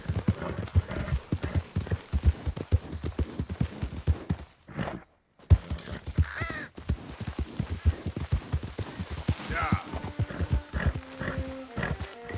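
A horse's hooves clip-clop at a steady walking pace in the open-world western game Red Dead Redemption 2. The rhythm is brisk and close, breaks off briefly midway, then picks up again, with a faint whinny-like tone near the end.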